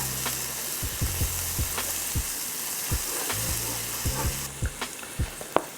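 Spices and onions frying in a skillet for butter chicken, a steady close sizzle with repeated spoon scrapes and knocks against the pan in an irregular rhythm.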